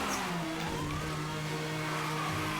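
Car drifting in the racing video game Need for Speed Hot Pursuit during a police chase, a steady loud engine drone with a rising whine and tire noise, continuous throughout.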